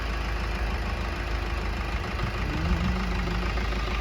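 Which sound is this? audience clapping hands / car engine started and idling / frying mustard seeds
car engine started and idling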